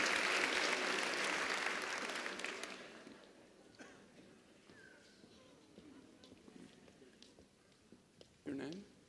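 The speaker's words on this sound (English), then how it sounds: "Let's give them a big round of applause." A theatre audience at a stage show bursts into loud applause that fades away over the first few seconds, leaving a quieter room with faint shuffling and a short voice near the end.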